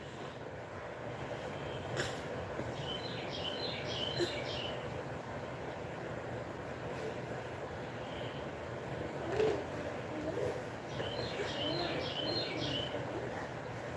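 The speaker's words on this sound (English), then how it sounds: "Can you hear that bird?" A bird calls outside in two clustered bursts of rapid chirps, separated by a pause, over a constant low background hum.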